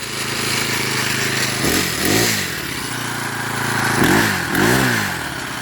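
A small engine whose blade won't spin idles close by with a buzzing clatter and is revved twice in quick pairs of rising and falling bursts.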